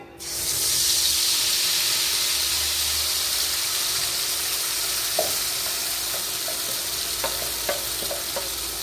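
Masala paste hits hot oil in a pan for a drumstick vegetable curry and sizzles in a loud, steady hiss, with a few faint spoon scrapes and clicks of stirring near the end.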